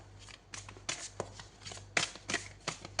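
Tarot cards being shuffled by hand, a series of crisp riffling bursts in an uneven rhythm, close and clear with quiet pauses between.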